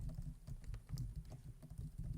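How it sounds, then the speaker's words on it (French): Computer keyboard keys are tapped in a soft, quick, irregular stream of clicks, faint and close, with no talking. "C'est des bruits de clavier."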